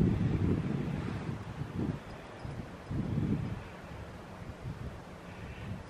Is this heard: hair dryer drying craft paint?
no